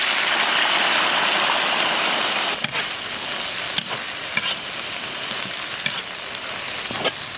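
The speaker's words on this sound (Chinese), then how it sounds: "先炒辣子段。" Dried chili pieces stir-fried in hot oil in a wok while making a Shaanxi preserved-mustard-greens chili sauce: a steady, loud sizzle with scattered sharp clicks and taps of a spatula against the pan, and no talking.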